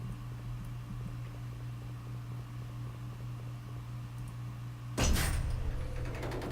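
A door in an indie horror-style video game is unlocked and swings open, a sudden louder creaking burst breaking through a steady low mechanical hum and hiss, then lingering for over a second.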